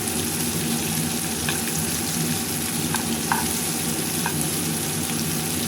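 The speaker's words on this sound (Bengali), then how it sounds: "বেশি শক্ত করে ভাজলে ভিতরের রসটা শুকিয়ে যায় আমি হালকা ভেজে নেব" Shrimp fry lightly in oil with a steady, even sizzle that holds throughout, broken by a few soft clicks and taps of a utensil against the pan.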